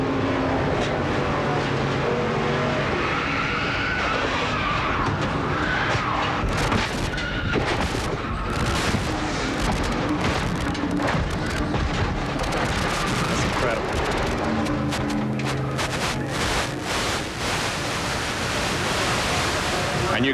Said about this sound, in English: you could hear every time the car hit the ground and took another tumble